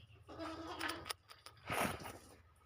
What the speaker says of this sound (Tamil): இதான் நம்ம ஆட்டுக்குட்டி பெரிய ஆடு